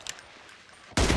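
A single sharp gunshot in the mobile shooter BGMI, likely an M24 sniper rifle, cracking loudly near the end after a short quiet stretch with faint distant shots.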